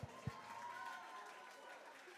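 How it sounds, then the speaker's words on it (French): Faint, distant applause from a live acoustic concert audience, a soft continuous patter of many hands that follows a couple of brief thumps. "Applaudissez-vous bien fort"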